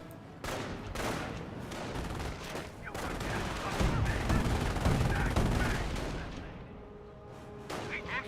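Dense, continuous gunfire and explosions from a Company of Heroes battle: overlapping rifle and machine-gun bursts with booming impacts fill the scene without a break, loud and steady, with some voices mixed in underneath.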